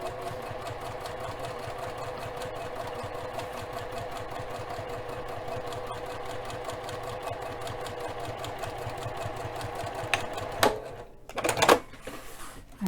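A sewing machine runs a steady, rapid, even-paced stitch line, top stitching an eighth-inch seam at close range, then stops near the end with a few clattering handling noises.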